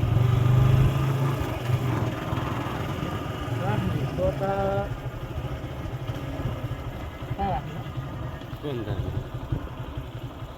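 A motorbike engine idles steadily near a riverside resort at Godavari, a low continuous rumble running beneath people talking throughout.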